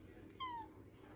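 A cat on a back porch lets out one short, faint meow that falls in pitch, set against a low outdoor background hum.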